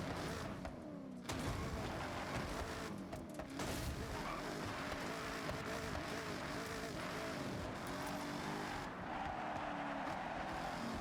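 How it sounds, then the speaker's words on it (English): A Corvette driving off-road in Forza Horizon 6, its engine a loud, continuous roar with shifting revs and faint tire noise, steady throughout without pause. "We'll just go off-roading in a Corvette, because this Corvette feels like being an off-road car today."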